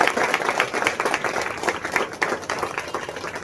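Audience applause at an opening ceremony in Ranchi, Jharkhand: dense, steady clapping from a large crowd, loud and continuous throughout with no talking.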